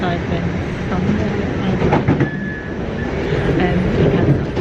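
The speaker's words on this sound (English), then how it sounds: "I'm on the train home." Inside a moving train on the way home, a loud continuous rumble of wheels and carriage noise runs throughout with faint rhythmic clatter and a brief squeal.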